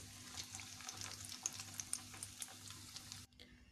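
A chicken patty fries in hot oil for a homemade burger, giving a soft, steady sizzle with crackling pops close by that stops abruptly near the end.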